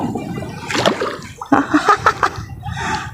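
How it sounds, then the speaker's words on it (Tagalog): Big waves splash and slosh near the shore where tilapia fishing goes on, several bursts of churning water in quick succession, close and fairly loud, with no clear talking. "Ang lalaki ng alon."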